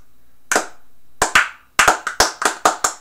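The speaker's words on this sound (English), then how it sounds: "Let's just give all a slow clap for the front offense of Memphis." A slow, sarcastic round of hand claps: one clap, a pause, then two more, then a steadier run of separate, sharp claps about a third of a second apart, close and alone with no voices.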